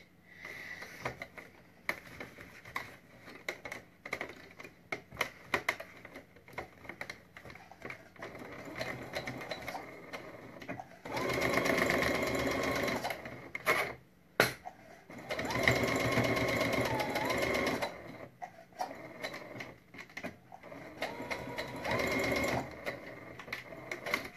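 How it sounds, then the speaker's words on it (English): Sewing machine stitching a fabric triangle pencil case, rapid mechanical whirring in several bursts of a few seconds each, separated by quieter handling clicks and pauses, close and fairly loud. "Oh, I've run out of bobbin. That didn't sew at all."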